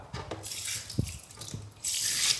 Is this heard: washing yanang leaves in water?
yes